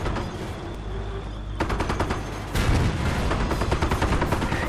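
Gunfire rattles through a Company of Heroes battle, with dense bursts of automatic shots layered over a constant rumbling battlefield din that grows louder partway through, and no voices.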